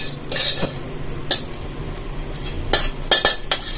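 Metal spoon clinking and scraping against a steel bowl while ground dosa batter is spooned into another vessel, several sharp clinks at irregular intervals over a faint background hum, with no voice.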